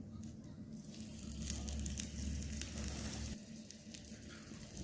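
Cumin seeds sizzle quietly in hot oil on a lit stove, a soft, fairly faint crackle with a few brief stirring ticks and no talk over it.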